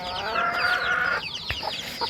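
Hens on a rooftop farm cluck and call up close, a run of loud, overlapping clucks and cackles followed by a few shorter calls near the end.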